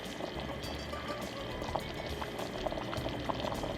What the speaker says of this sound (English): go ahead and allow this to come to a boil and simmer for 8 minutes